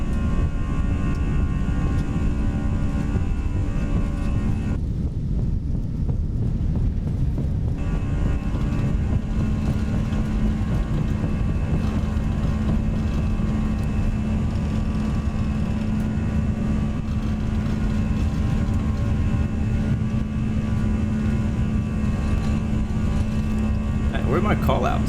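Jet engines of a Toliss Airbus A319 in the X-Plane 11 flight simulator spool up for takeoff with a steady, loud, droning roar and a low hum, briefly dipping and then continuing, while someone talks over it.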